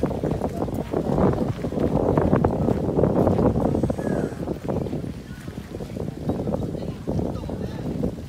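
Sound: strong wind blowing into the microphone

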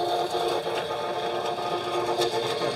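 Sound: chicken plucker machine running

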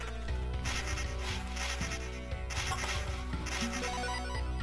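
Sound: mosquito buzzing in Loop Hero video game

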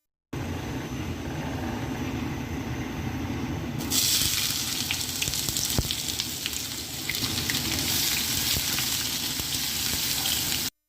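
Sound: onions frying in hot soybean oil

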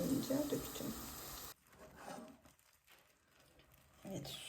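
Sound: milk and water mixture poured onto pasta in a pan

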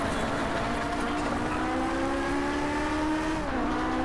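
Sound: Ferrari car engine racing in a video game

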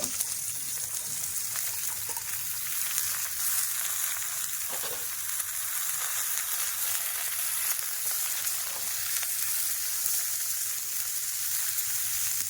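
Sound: vegetables sizzling as they fry in a pan

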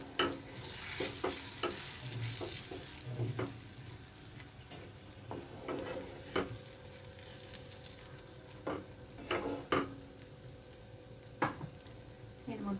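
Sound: stirring chickpea dal dhoka mixture in a pan

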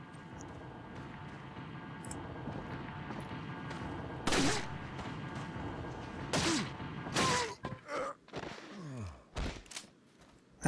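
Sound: gunshots in the video game Resident Evil 4

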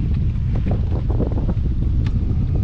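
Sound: strong wind on a lake, wind noise on the microphone

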